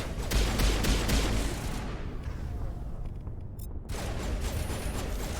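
Gunfire in the Mass Effect video game, a dense stream of rapid shots over a continuous roaring din, loud and busy throughout, with a brief lull before the firing resumes.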